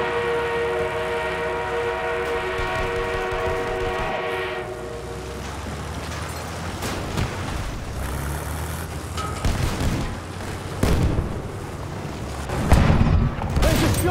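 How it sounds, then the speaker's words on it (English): An armored train rolls in during a Battlefield 1 match on the Amiens map, with a sustained horn-like tone giving way to heavy rumbling, rail clatter and booming explosions that build louder toward the end, with no talk. "We have an armored train en route."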